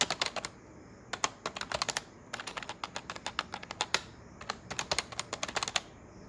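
Rapid typing on a computer keyboard, entering form details such as names and an email address; quick bursts of crisp key clicks separated by short pauses, close and fairly quiet.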